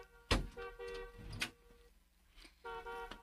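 A car horn honks nearby in a few short toots, the first sharply loud, followed by steadier tonal blasts after a quiet gap, with the hum of the vehicle underneath.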